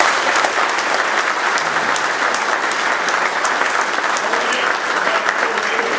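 Dense, steady applause from a dinner audience honoring a Marine color guard and division band, filling the room evenly at full volume for the whole stretch.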